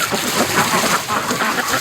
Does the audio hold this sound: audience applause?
no